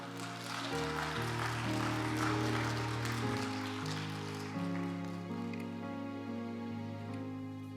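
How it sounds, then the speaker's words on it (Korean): A church congregation at a lay Sunday service claps to welcome a speaker; the broad wash of applause runs under sustained organ-like music chords, strongest early and fading as the music continues. "박수로서 격려해 주시기 바랍니다"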